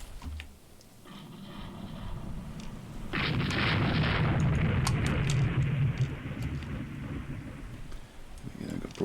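Naval broadside gunfire in the video game Rule the Waves 3, deep rumbling booms that swell into a sustained roar of overlapping blasts, fairly loud and distant-sounding.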